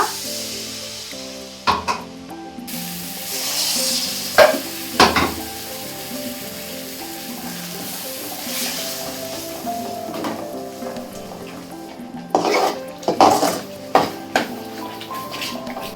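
Fish curry masala with added water sizzles and bubbles in a pan with a steady frying hiss, broken by occasional clinks and scrapes of a spoon stirring.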